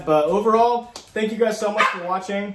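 A dog in the background lets out several whiny yips and bark-like whimpers mixed in with a person talking close up, the dog sounds fairly loud against the speech.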